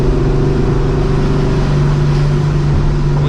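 A supercharged New Edge Mustang GT with long-tube headers pulls hard in second gear on a road, a loud, steady droning engine roar with rising tone heard from inside the car, no talking.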